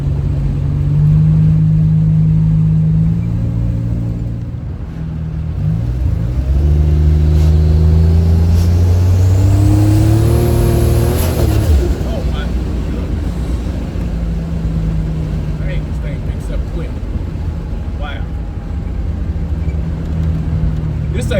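A Buick Grand National running on methanol revs and accelerates hard, engine pitch climbing and dropping through several pulls, loud and close, with a person talking over it at times.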